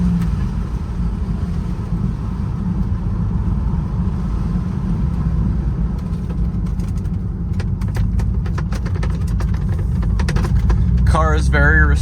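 A 1987 Ford Mustang McLaren with its 5.0 engine gives a steady, deep idle rumble up close for the whole stretch, with a few faint bird chirps creeping in near the end.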